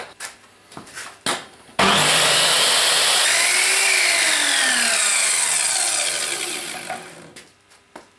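A mitre saw motor spins up and runs loudly and steadily for several seconds, then winds down, with a few sharp knocks before and after.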